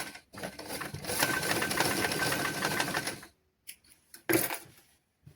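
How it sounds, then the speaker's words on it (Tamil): A sewing machine stitching fabric, with a loud, steady mechanical whir for about three seconds that then stops, followed by a few brief clicks and knocks. "இப்போ நாங்கள் தைச்சு முடிஞ்சது ஒரு பகுதி"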